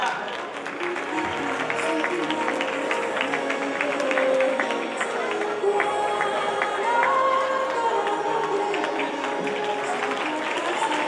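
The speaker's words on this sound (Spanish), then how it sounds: "Despidamos con un fuerte aplauso a la Corte del Carnaval 2015" Audience applause at a 2015 carnival coronation, sustained crowd clapping with scattered cheers filling the hall, while an announcer's voice and background music carry on over it throughout.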